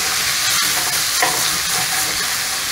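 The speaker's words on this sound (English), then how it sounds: "I'm gonna let this cook off for about a minute before I add all the other veggies." Vegetables for stuffed shells fry in a pan with a steady crackling sizzle and occasional stirring scrapes, fairly close and even, with no voices.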